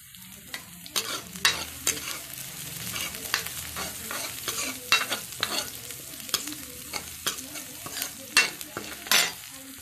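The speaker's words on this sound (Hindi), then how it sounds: "अब प्याज को हम अच्छे से रोस्ट होने देंगे। अब ये थोड़ी सी हींग डाल दूंगी मैं इसमें।" Onions with asafoetida fry and sizzle in a pan while a spoon stirs them, producing frequent sharp scraping knocks over a constant hiss, close by.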